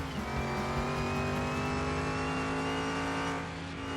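A custom Mustang engine in Car Mechanic Simulator drones steadily at high revs as the car drives, loud and continuous with a sustained, slightly rising pitch.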